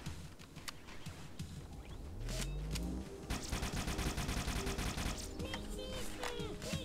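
Gunfire in the Halo video game builds from scattered shots into a sustained burst of rapid automatic fire, moderately quiet, mixed with other game effects.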